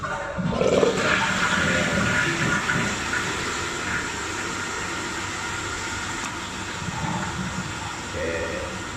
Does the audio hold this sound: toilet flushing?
yes